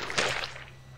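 A block in the Minecraft video game gives off a short, wet squishy crunch with a quick bright attack that softens and fades within a second over faint background hum.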